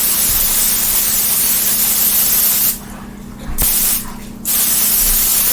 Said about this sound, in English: Okay, so spray is like all over the pan and all the sides.